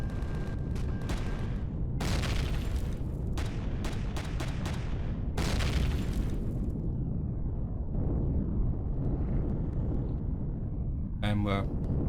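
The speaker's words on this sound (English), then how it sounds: "there's somebody getting ready to fire at us. There's a turret just on the corner there." Turret fire and explosions in the space game Empyrion Galactic Survival: several loud, close blasts and bursts of gunfire in the first half, heavy low rumble beneath, with a sharp crackling burst near the end; a voice talks over it.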